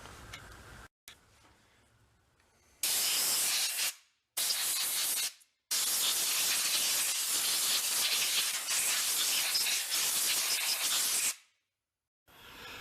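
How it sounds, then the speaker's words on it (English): Compressed air from an air gun blasts debris out of parts from a salvaged John Deere chainsaw. Several loud, close, harsh hissing bursts are split by short silences, and the longest jet runs about six seconds. "We should probably take an air gun and blow that crap out of there."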